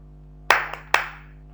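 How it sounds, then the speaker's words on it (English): A person claps their hands gently: two soft, separate claps about half a second apart, with a fainter tap between them, over a low steady hum in a quiet room. "now I am going to clap my hands gently"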